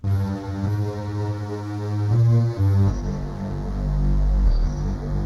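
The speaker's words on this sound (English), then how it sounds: "we can actually kind of go in between saw and square here." Waldorf Quantum synthesizer playing a sustained, buzzy bass tone as its waveform is warped between saw and square, the harmonic colour shifting partway through; loud and steady with no talking.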